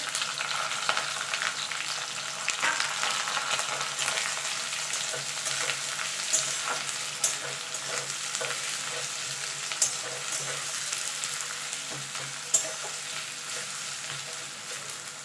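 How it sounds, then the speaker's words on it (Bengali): Three medium chopped onions fry in oil for a chicken kosha, a constant dense sizzle with occasional stirring clicks, close and uninterrupted, with no talking. "পেঁয়াজটা একটু লাল লাল করে ভেজে নেবো"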